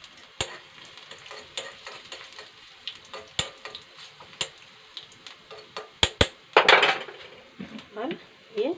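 Panch phoron and garlic sizzle in hot oil for a tadka in a village kitchen, a steady fry broken by sharp spoon clinks and scrapes against the pan, louder bursts of stirring toward the end.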